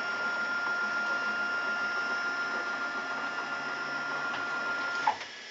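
A CNC milling machine's motor runs steadily after the climb and conventional cuts, a continuous even mechanical hum with a faint click near the end as the sound drops slightly.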